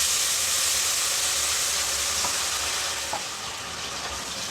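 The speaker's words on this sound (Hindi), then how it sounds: "और इसे चलाते हुए हम पिघला लेंगे" Clotted milk cream melts in a kadhai over full flame while being stirred to render ghee, giving a steady, close, dense sizzling hiss throughout with a few faint scrape-like ticks.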